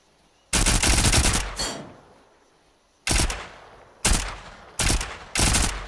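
Submachine gun fire in the survival game Volcanoids: loud, close automatic bursts, one long burst followed by several shorter ones separated by pauses, with no talk.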